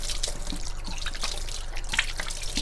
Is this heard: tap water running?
yes